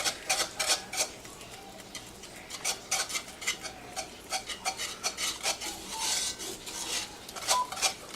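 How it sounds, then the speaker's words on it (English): A whisk works tomato paste into a roux in a cooking pot for lamb stew, giving steady close scraping and rubbing strokes against the metal with a quick, uneven rhythm and no talking. "I'm going to use my whisk to whisk in my tomato paste with the rest of my roux"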